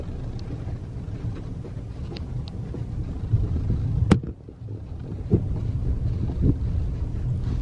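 A car drives over snowy roads in winter, a low steady engine and tyre rumble heard from inside, with wind buffeting and a brief knock partway through, no voices.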